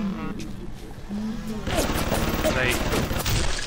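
A machine gun turret fires in BioShock as a steady, continuous rattle of rapid shots that builds partway through, with game ambience and scattered sounds layered over it.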